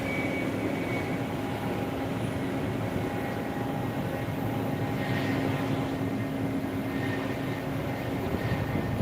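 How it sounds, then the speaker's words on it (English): An Air Arabia airliner taking off at Phuket International Airport in the evening, a continuous broad jet roar holding steady and fairly loud throughout, with no voices over it. "Maybe the takeoff of the Air Arabia."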